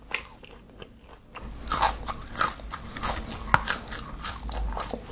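Close, crisp crunching of a spicy crispy potato snack eaten with sambal dendeng, a steady run of bites and chews that starts after a brief quiet moment.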